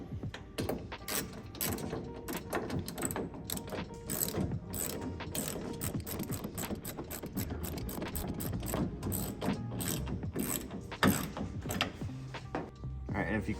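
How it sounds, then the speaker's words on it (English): A ratchet with a 1/2 inch socket cranks down a bolt on a truck bed mount, rapid repeated clicking strokes close up, continuous with brief pauses between pulls. "you're gonna take a 1/2 inch socket and you're gonna crank down on this"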